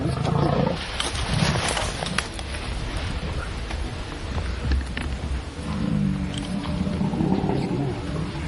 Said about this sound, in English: As long as he could hear the lion, he knew where he was.